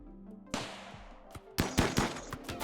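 Automatic turret fire in the colony-sim game RimWorld: rapid bursts of gunshots that start sharp and grow denser and louder toward the end, with no talking.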